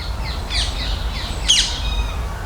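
Harsh bird squawks and calls come in short bursts over a steady low rumble, with a louder, sharper cry near the middle.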